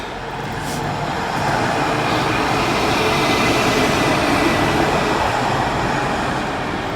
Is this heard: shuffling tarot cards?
no